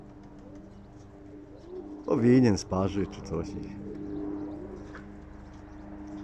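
Pigeons coo softly in the background while someone talks briefly over them; the cooing is low and steady, with a louder spoken burst midway.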